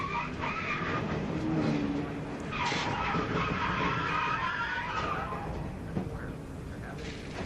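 A NASCAR race car from the 2000 Napa Auto Parts 300 gets turned and spins, with a steady engine roar and a long tonal tire squeal of skidding rising above the track noise, a faint voice underneath.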